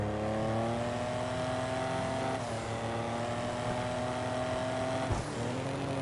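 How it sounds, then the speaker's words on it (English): A car engine in the video game GTA drones steadily at high revs with harmonic whine, pitch easing slightly and a brief gear-shift dip near the end, continuous and loud. "I love the sound of this car."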